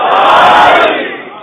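A large crowd at a Muharram majlis gathering loudly chants a religious slogan in unison, one brief swelling roar that fades out.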